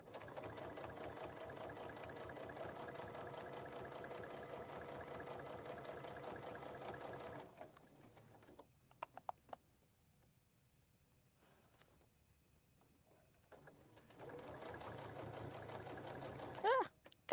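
A sewing machine stitches binding onto a quilt in a steady, rapid run. It stops for several seconds of quiet handling clicks, then starts stitching again near the end.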